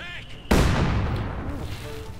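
Heavy mortar firing in the Company of Heroes 2 battlefield, a sudden loud blast with a long rumbling tail fading over about two seconds, set against faint background battle ambience and overlapping game voice chatter.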